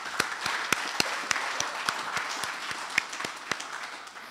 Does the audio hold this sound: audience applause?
yes